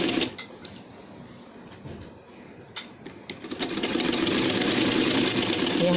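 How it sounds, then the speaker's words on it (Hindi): A sewing machine stitches fabric for a handmade long frock, first with faint intermittent clicks and mechanical noise, then running steadily in a continuous rapid whirr for the last couple of seconds. "उस हिसाब से हम इसकी यहाँ से सिलाई लगा लेंगे"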